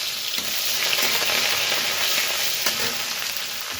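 Five-spice and chopped ginger sizzle and crackle steadily in hot oil for a cabbage puli pitha filling, a dense continuous frying hiss with a few stirring scrapes, close and alone.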